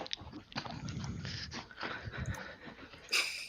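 A dog moves about close by, giving scuffling, snuffling bursts of sound that come and go over a few seconds of quiet room noise.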